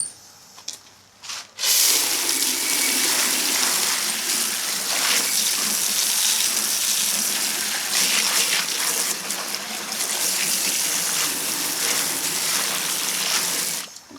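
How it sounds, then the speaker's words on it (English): Water from a hose sprays steadily over an old Hallicrafters S-108 radio chassis being cleaned, a continuous close gushing splatter that starts abruptly after a brief pause and runs on with slight shifts in intensity. "Let's go ahead and hose this down a little bit."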